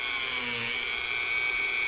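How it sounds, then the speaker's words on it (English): Wire wheel brushing the steel of a katana blade in a workshop, a steady high-pitched whirring scrape running at low speed throughout, close and continuous with no talking. "This side with a minute of wire brushing compared to this side."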